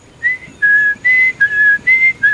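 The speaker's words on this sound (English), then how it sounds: "I start whistling the same tune." A person whistles a repeated short tune while riding a bike along a bayou in Houston, six clear steady notes in an even rhythm, close and alone over faint outdoor background.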